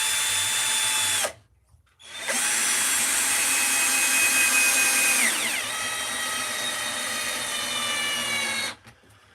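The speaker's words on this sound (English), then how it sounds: "I advise you drill it first." A power drill drilling into wood whines loudly, cuts out briefly, then starts again, its pitch sagging partway through before stopping abruptly near the end.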